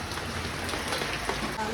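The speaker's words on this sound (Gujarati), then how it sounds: "બહાર વરસાદ ચાલુ છે" Steady rain falls outside a house in Gujarat, a continuous close patter and hiss of drops on surfaces with no talk over it.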